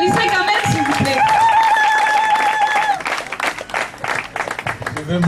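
Applause for a youth committee vice-president at an investiture ceremony: clapping and crowd noise mixed with a sustained tonal whistle or horn early on, with voices over the clapping and chatter in the second half.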